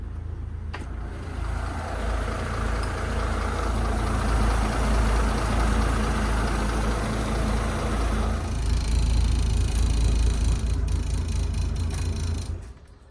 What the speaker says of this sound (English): Running well, those two engines.